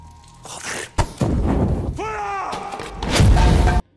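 A prison film scene set in an underground corridor has a car explosion and a gunfight: sharp bangs and heavy thuds mixed with a rising cry, tense noise and voices.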